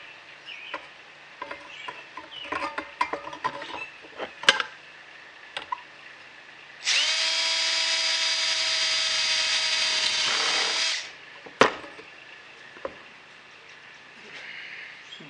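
A power drill drilling holes in metal whirs steadily for about four seconds, surrounded by scattered clicks and knocks of handling before and after.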